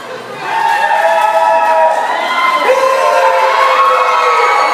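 A wrestling arena crowd roars for a returning wrestler, loud sustained cheering and shouting that swells early and stays strong throughout.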